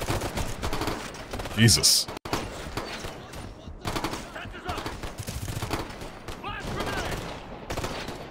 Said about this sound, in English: So I just opened fire after that.